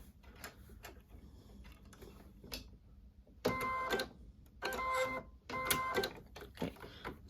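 A sewing machine fitted with a presser foot stitches fabric in three short, close mechanical bursts of rapid whirring, separated by quieter handling clicks and rustles.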